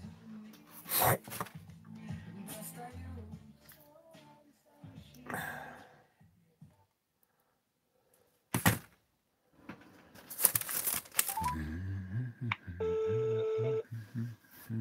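A telephone is dialed and the call rings through, with a few short dialing bursts and then a repeating ring tone near the end, heard between bits of talk.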